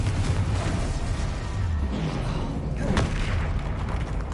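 A Confringo spell explosion in Hogwarts Legacy on PS5 lands as a dull boom amid low rumbling game ambience, with one sharper burst standing out near the end.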